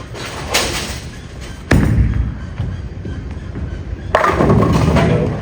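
A bowling ball lands with a heavy thud and rolls down the lane in a sustained rumble, then a sharp crash that fits pins being struck at the far end, loud and close in an echoing alley.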